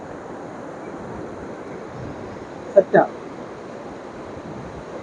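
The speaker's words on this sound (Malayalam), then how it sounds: "ഈ വെള്ളച്ചാട്ടം." A waterfall at Velliyamkallu Heritage Park gives a steady, rushing roar that stays even throughout, with a brief spoken word breaking in near the middle.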